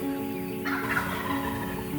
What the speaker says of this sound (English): I got turkeys everywhere